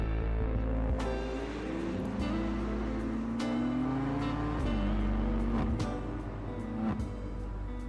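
A BMW driving in GTA 5, its engine a steady close drone with shifting pitch as it revs and changes speed, with a few sharp clicks and knocks over the continuous motor sound.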